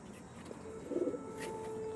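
An old, imported pigeon coos once in a soft, low burble midway through, close by over steady background hum with a faint tonal whine.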